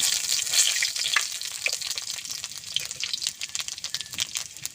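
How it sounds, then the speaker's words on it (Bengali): Bay leaf and panch phoron sizzling in hot mustard oil for a Bengali rui fish curry, a close, steady crackling hiss with occasional sharper spits and no voices. "সরষের তেল ফড়ঙে দেব তেজপাতা পাঁচ ফড়ং"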